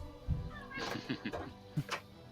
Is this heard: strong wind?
no